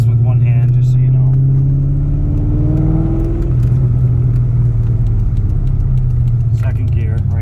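A 2000 Chevrolet Corvette rolls along in second gear at an easy pace, its engine droning steadily and loudly from inside the cabin with a slight rise in pitch as it pulls.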